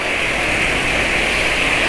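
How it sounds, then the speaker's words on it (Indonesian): An automatic scooter engine runs on Deltalube oil with its exhaust giving a steady, loud, even drone, close up and uninterrupted, with no voices. "Suara knalpot makin kencang."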